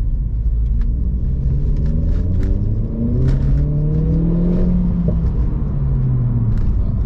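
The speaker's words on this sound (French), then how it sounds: "Petite accélération. Un petit 0 à 50 km/h bien évidemment." A Renault RS car engine rumbles steadily and rises in pitch as it accelerates from 0 to 50 km/h, close and loud, with no talking.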